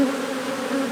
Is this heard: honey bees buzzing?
yes